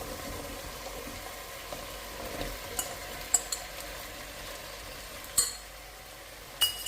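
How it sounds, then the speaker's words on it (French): Potatoes frying in a pan, a steady soft sizzle with occasional clinks of a utensil as they are stirred, close and fairly quiet, no talking. "Alors, on rajoute les pommes de terre."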